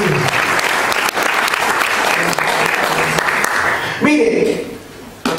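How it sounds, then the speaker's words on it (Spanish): A church congregation breaks into sustained, dense applause for several seconds. The clapping then drops away into a brief lull with a voice, before a short burst of sound at the end. "Un aplauso por el Señor."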